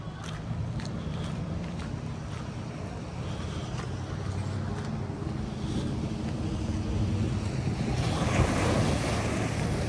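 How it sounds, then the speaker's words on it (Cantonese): Big ocean waves crash against the shore below the Golden Gate Bridge in San Francisco on a rainy day, a steady loud surf roar with heavy wind noise that swells near the end, with faint voices underneath. "啲浪今日啲好大浪啊！ 哦，拍晒岸邊啊！"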